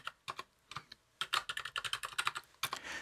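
Someone types on a computer keyboard, the quick key clicks coming in short irregular bursts with brief pauses, close and fairly quiet.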